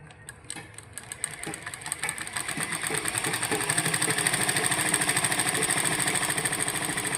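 A sewing machine stitches cloth, starting with a few uneven clicks and then building into a steady, fast mechanical whirr with a rhythmic needle clatter, close up and with no speech.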